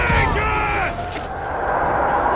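Rapid gunfire in the grim sci-fi shooter Warhammer 40K: Darktide, loud and sustained with heavy booming blasts, mixed with a player talking over the action.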